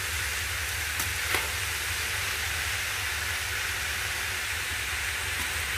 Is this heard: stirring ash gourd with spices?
yes